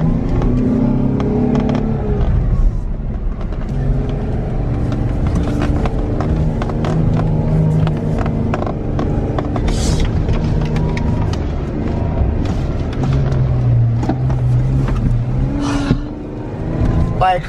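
A 2018 Jeep Wrangler Sport engine drives across sand dunes, a loud, steady motor roar that rises and falls with revving throughout, with bursts of wind or sand noise and a person talking over it.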